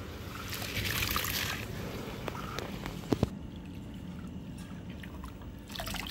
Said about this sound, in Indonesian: Pakai keran langsung sampai kondisinya tuh di airnya bleber.